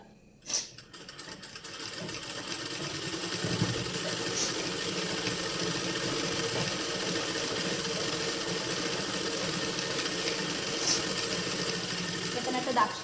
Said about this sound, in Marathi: आपण आधी सगळ्यात आधी याच्यावर आपण दाबशिलाई मारून घेऊ म्हणजे आपल्याला हे फिनिशिंग येईल